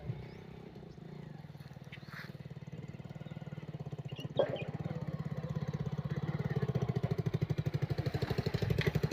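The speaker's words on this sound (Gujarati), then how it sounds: "એટલે બાઇકનો અવાજ તો આવે" A motorcycle engine putters steadily, its rhythmic chugging growing louder as it draws closer, with no voices over it.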